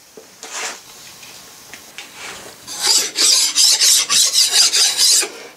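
Metal-shop deburring of drilled holes in a part for fitting a chuck to a dividing head: a quiet scrape or two, then a run of about nine quick, even rasping strokes, close and fairly loud, with no talking.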